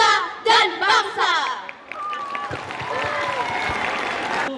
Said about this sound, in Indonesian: Sekali lagi beri tepuk tangan untuk tim muhadarah